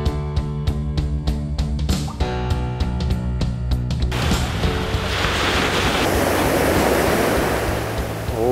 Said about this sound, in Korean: 지금 파도 치는 게, 지난주보다 파도가 좀 작잖아.